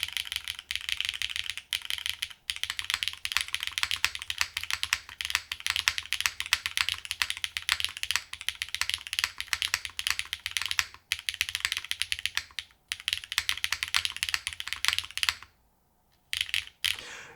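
Rapid clacking of keys on a top-mount mechanical keyboard, steady typing with brief pauses, close and clear with no talking.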